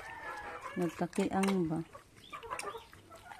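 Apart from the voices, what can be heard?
chickens clucking and rooster crowing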